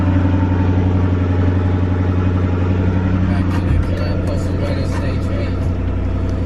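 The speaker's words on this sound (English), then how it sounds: "from inside the car, we're gonna go ahead and give it a start" A Ford Raptor truck engine idles steadily after being started from inside the cab, a close, continuous low rumble with a slight shift in tone partway through.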